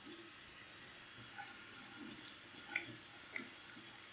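Garlic cloves and chopped green chilies fry in hot oil in a pan over a medium flame, making a soft, steady sizzling hiss with a few faint pops. It is quiet and close, with no voices.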